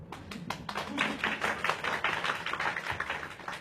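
An audience claps in bursts of fairly faint, steady applause with sharper individual claps standing out near the start, continuing for a few seconds without talk.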